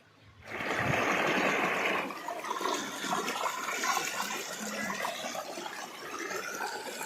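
Water in a small river rushes and gurgles steadily close by, a strong surge at first that settles into a continuous flowing stream.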